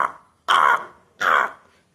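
A person's voice imitates a crow's caw, two harsh, loud, drawn-out caws separated by a short pause, close and clear against silence.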